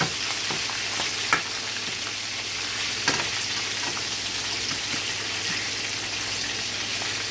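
Fish for brown stew fish frying in a pan, a steady close sizzle of hot oil with a couple of small knocks as pieces are flipped.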